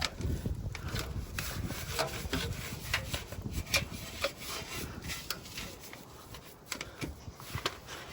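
A brush scrubs dirt off the suspension of a 4x4 with quick, rasping back-and-forth strokes, close up and fairly quiet, in an uneven rubbing rhythm.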